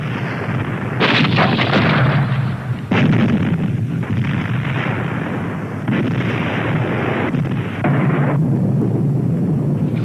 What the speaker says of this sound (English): At the Somme in 1916, they shelled the German trenches for a whole week before attacking.